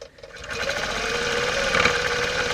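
A sewing machine runs a line of stitching on a quilted shadow box project, with a fast, even mechanical chatter that starts after a brief pause and carries on steadily, close and clear.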